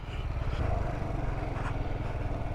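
Kawasaki Z125 Pro motorcycle engine droning steadily during a wheelie attempt, a continuous buzzing rev with wind rumble, close by and fairly loud.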